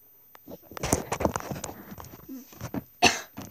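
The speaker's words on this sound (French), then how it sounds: "Désolée si je tousse, c'est que je suis un peu enrhumée" A woman with a cold talks quietly, then a single sharp cough breaks in near the end.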